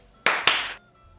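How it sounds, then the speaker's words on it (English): Two sharp hand claps close by, a brief gap between them, in an otherwise quiet room, trying to switch on lights. "Just clap twice."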